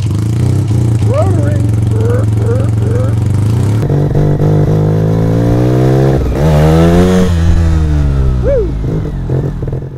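A 1975 Suzuki RE5 Wankel rotary motorcycle engine cranks and runs with a steady low drone, its pitch rising as it revs, heard up close, with people talking over it.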